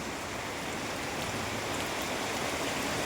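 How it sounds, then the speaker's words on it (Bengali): Heavy rain falling in Nandigram town, a dense, steady hiss of downpour that stays constant and loud throughout, with no voices. "প্রচুর বৃষ্টি হচ্ছে"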